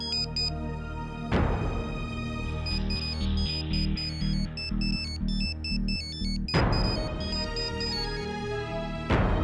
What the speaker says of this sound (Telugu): నీ ఫోన్ మోగుతోంది.